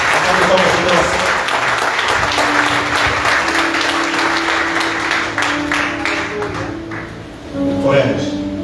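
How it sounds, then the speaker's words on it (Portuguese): Church conference audience applauding loudly and continuously in a hall, dense sustained clapping with a voice speaking over it, easing slightly then swelling again at the end. "Aplauda o máximo que você puder."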